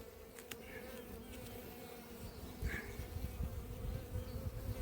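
Honey bees buzz steadily around an open hive at an apiary during an inspection, a close continuous droning hum with individual bees flying past, growing a little louder toward the end.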